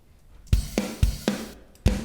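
A rock and metal double-time drum groove with kick and snare struck alternately in quick, even succession, the hits punchy and close with short decays.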